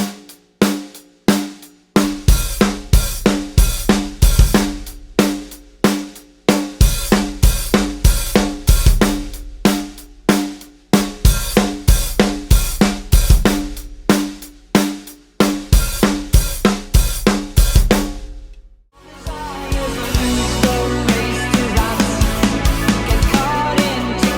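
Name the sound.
drum kit groove, hi-hat and kick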